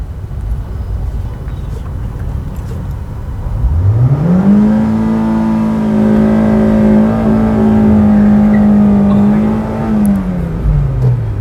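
A Honda Brio 1.2 E hatchback launches hard from the red line, its engine note climbing quickly and then holding at a loud, steady high pitch for several seconds before easing off, heard close up from inside.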